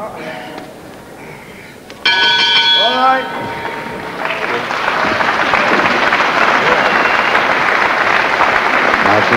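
A ringing bell marks the end of a round at a wrestling bout in a packed sports centre in Worcester, followed by sustained, loud crowd applause that swells and continues under a commentator's voice.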